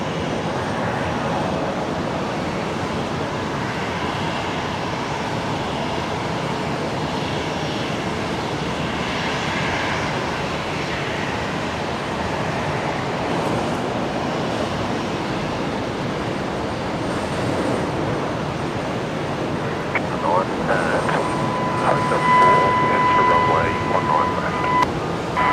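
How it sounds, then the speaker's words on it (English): An airliner touches down on runway 19 left at Brisbane Airport in bad weather, a steady, broad engine and wind roar heard at a distance, with a thin tonal whine appearing near the end. "next arrival just about to touch down here, runway 19 left"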